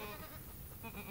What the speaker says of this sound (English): one goat starts hollering